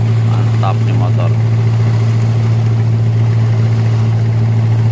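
A steady, loud jukung riverboat engine on the Musi River in Palembang drones throughout with a strong low hum, and a brief voice cuts in near the start.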